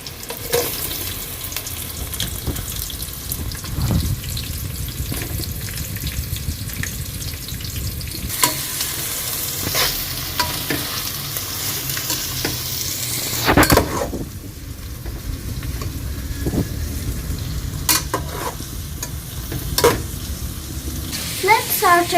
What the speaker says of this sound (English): Let's saute the onions until it turns golden brown.